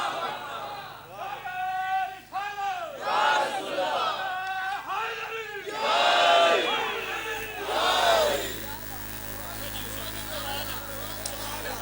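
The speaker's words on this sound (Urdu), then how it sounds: "میں نہیں خوش ہو رہا آپ کے نعرے سن کر" A crowd at a religious gathering in honour of Hazrat Mola Ali shouts slogans in unison, several surging chanted bursts of many voices with cheering between them.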